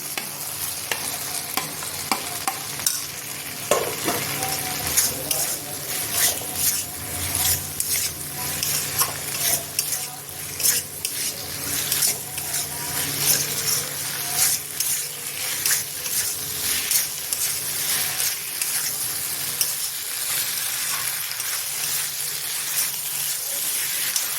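Fried paneer cubes go into a hot pan for paneer chilli and are tossed and stirred, with a loud continuous sizzle and repeated sharp scraping and clattering of the spatula throughout.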